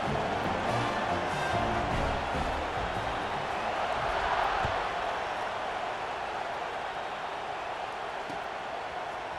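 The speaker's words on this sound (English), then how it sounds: "They're set to kick it off, and this crowd now ready to get behind them." Stadium crowd in EA Sports College Football 26 at a kickoff, a steady, dense roar that holds at an even, fairly loud level throughout with slight swells.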